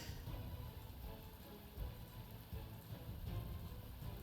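Rain from the war strategy game Panzer Corps 2, a soft continuous patter and hiss of rainfall at low volume without talking.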